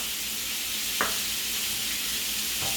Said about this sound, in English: all you just really have to do is just keep stirring the shrimp